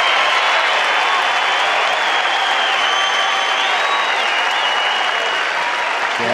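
A packed baseball stadium crowd at a Texas Rangers game rises in a standing ovation, with loud, sustained applause and cheering that fills the whole span evenly without letting up.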